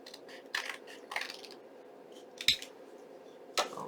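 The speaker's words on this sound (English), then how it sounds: "we're going to take our scissors and we're just going to trim this off just like this" Several crisp scissor snips cut through paper, spaced irregularly in a quiet room, with a sharper click partway through.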